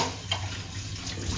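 Tap water running to rinse already-washed tea cups in a homestay kitchen during party preparations, a steady close splashing stream with a brief brighter splash partway through and no talk.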